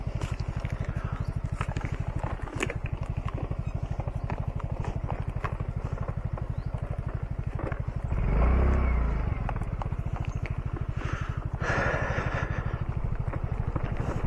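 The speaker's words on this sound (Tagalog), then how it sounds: "Mahina ang motor natin sa ganito, mga matataas." A motorcycle engine labors up a steep road in San Fernando, Camarines Sur, a steady throbbing drone that holds throughout, swelling briefly louder midway.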